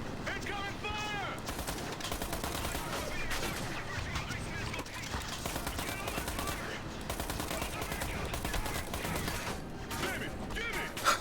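Rapid sustained minigun fire in the Metro Conflict video game, dense continuous bursts of automatic gunfire with mechanical rattling, mixed with game effects and occasional voices.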